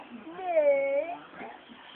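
A kitten gives a single drawn-out meow, clear and close, with faint household sounds around it.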